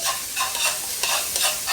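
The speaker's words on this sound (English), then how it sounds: "stir it in the frying pan and moving aside" Chicken liver and bacon stirred in a hot frying pan with parsley: a sizzling fry with repeated scraping stir strokes, close and fairly loud, no talking.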